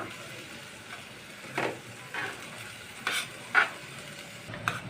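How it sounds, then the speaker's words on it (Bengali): Yard-long beans frying in oil and being turned in a pan: a faint, quiet sizzle runs throughout, with a few short louder scrapes of stirring spaced about a second apart. "এখন আমি একটু নাড়াচাড়া করে আমি দিয়ে দিব এখানে যে বরবটিগুলো দিয়ে দিলাম।"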